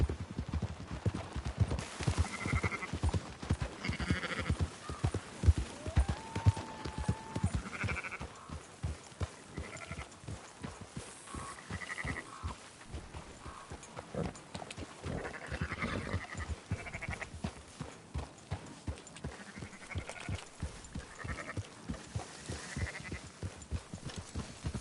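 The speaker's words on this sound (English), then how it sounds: "Marston, why don't you leave the sheep to me?" Sheep being herded in Red Dead Redemption 2, with repeated bleats rising over a steady clip-clop of horse hooves that continues throughout.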